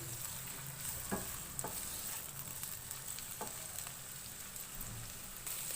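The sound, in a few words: chopped onions frying on medium flame for chicken karahi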